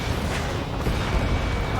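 A tank explodes in the video game Ace Combat 7, giving a dense, heavy roar of rumbling blast noise that fills the whole moment at close, loud level.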